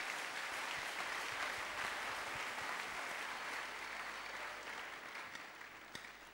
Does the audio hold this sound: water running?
no